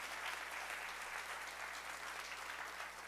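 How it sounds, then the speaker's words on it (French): An audience applauds at an entrepreneurs' gala awards ceremony, a faint, even and continuous spread of clapping heard from a distance with no break. "oui, on peut applaudir, c'est beaucoup."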